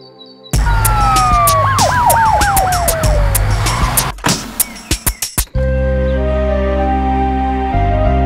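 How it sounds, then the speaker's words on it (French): An ambulance siren wails loudly with rising and falling sweeps over vehicle noise, then gives way to sharp clicks and a steady low hum. "Je vais appeler l'ambulance pour qu'elle l'amène à l'hôpital."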